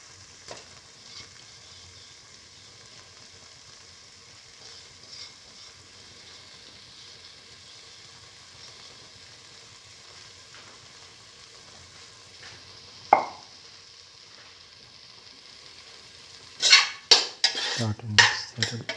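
Marinated cottage cheese pieces fry in a pan with a soft, steady sizzle, then a metal utensil clatters and scrapes loudly near the end as the pieces are mixed.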